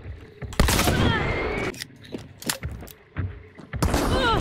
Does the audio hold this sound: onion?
no